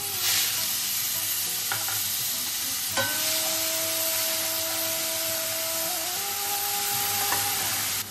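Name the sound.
whole garam masala and cumin sizzling in hot oil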